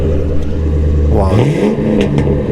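A 2007 Ford Crown Victoria P-71 V8 idles with a deep rumble, then revs up sharply and settles back, loud and close, with brief voices in the background.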